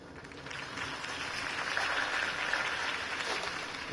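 Steady crowd applause and cheering in the Batman Telltale video game, a dense wash of clapping that swells slightly and holds at a moderate level with no speech.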